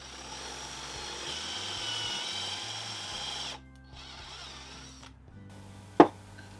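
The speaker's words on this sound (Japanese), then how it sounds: "でこのドリルガイドで8ミリで貫通させます。" A power drill whirs steadily through a wooden block for a few seconds, boring an 8 mm hole with a drill guide, then stops; a brief restart follows and a sharp clack near the end.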